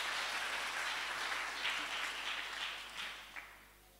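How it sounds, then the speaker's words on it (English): Brief applause from a church congregation, a soft, fairly distant patter of hands that swells slightly and fades over a few seconds. "Let's clap for them."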